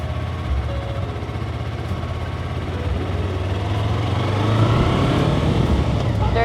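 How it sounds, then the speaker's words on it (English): A car engine drones steadily from inside the cabin while gears shift during a U-turn, growing a little louder and rougher toward the end, with no talk. "back to third gear because I'm making a U-turn out here"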